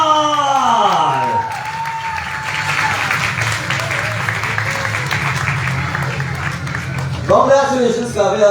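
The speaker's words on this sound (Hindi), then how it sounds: "कांग्रेचुलेशंस काव्या, जोरदार तालियां हो जाए इनके लिए।" Applause and cheering for a third-prize winner at a talent hunt grand final held in a hospital, a loud crowd clapping steadily under a host's voice, with whoops rising briefly near the end.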